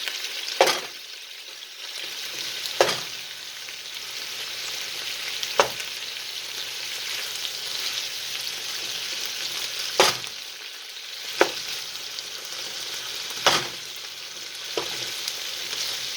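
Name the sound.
potatoes frying in butter with onions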